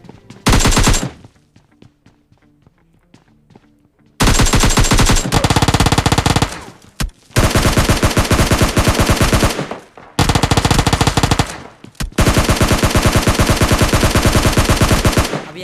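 Automatic gunfire in PUBG Mobile Lite, very loud rapid bursts of machine-gun fire in several long volleys separated by short silences, close and dominant with no talk.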